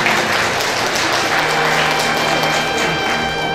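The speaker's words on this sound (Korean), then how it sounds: "축하 박수 부탁드릴게요" Wedding guests applaud continuously, a dense wash of many hands clapping, loud and even from start to finish.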